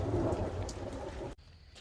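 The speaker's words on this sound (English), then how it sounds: "I had to stop again because a thunderstorm passed" Heavy rain roars through a passing thunderstorm, a loud broadband wash with deep rumbling underneath that cuts off abruptly near the end, leaving a quieter hiss.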